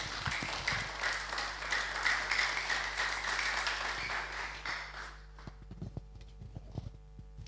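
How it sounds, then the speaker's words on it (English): A round of applause at a signing ceremony, with steady, moderately distant clapping over a low hum that thins into a few scattered claps and taps toward the end. "please give a big round of applause"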